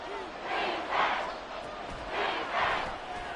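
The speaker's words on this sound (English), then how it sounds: "This crowd doing all they can." A stadium crowd in a PS5 football game, Falcons against Giants, roars in two swelling waves near a goal-line play, a broad steady cheering wash.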